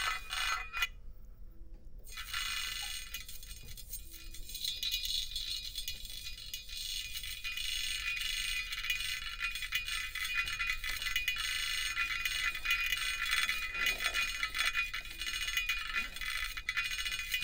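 Granular synthesis from a Waldorf Iridium synthesizer passed through a high-pass filter, a thin, dry, grainy shimmer of tiny clicks and jingles, sustained and fairly quiet after a brief opening burst.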